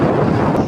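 Strong wind at sea blasts across a fishing boat, a loud, steady roar buffeting the microphone for a brief moment with no voices.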